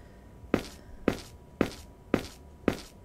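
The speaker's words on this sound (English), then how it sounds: "Those are some loud footsteps." Loud, heavy footsteps in the video game Misao thud five times at a slow, steady pace, each step a sharp booming impact with short silences between, heard alone.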